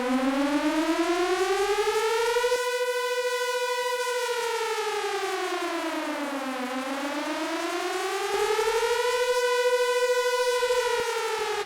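A synthesized air raid siren built in the Vital synth wails alone, rising to a held high tone, sweeping down to a low dip and climbing again in one long, clean cycle.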